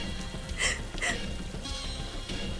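Steady rain falling in an animated Hindi-dubbed animal cartoon, a continuous close hiss with a few brief louder splashes or patters, with no voices.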